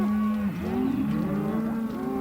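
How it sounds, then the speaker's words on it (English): A long, loud moo from a beef cow on an Angus cattle farm, then a few more bellowing calls sliding up and down over a couple of seconds, with no talking. "When it's all done, cow and calf are happily reunited."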